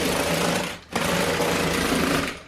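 A Lego Power Functions robot's motor whirs with a loud, buzzy mechanical drone, cutting out briefly near the start and then resuming as a steady rattling hum.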